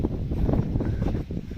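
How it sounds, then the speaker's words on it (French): Strong outdoor wind buffets the microphone beside the Gironde river, making a steady, dense low rumble with no voices. "je sais pas si vous allez bien entendre, ça souffle. Il y a du vent."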